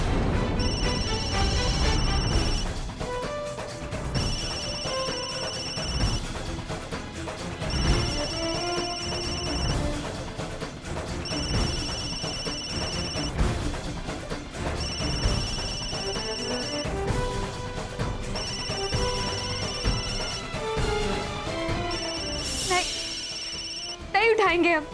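A telephone rings in repeated evenly spaced bursts, seven in all, over a tense television drama scene with a dramatic music score, and people talk intermittently beneath it.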